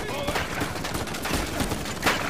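Bursts of gunfire in the video game Uncharted 4 A Thief's End, a busy fusillade of overlapping shots with a sharper crack near the end, mixed with faint voices in the background.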